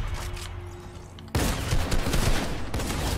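A tactical shotgun fires in Fortnite, with a single sharp, loud blast partway in, followed by noisy ringing that lingers to the end.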